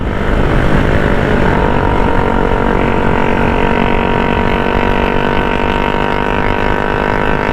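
A modified Honda Wave 110 four-valve motorcycle engine roars loudly and steadily at high revs, a dense unbroken drone with no audible voices.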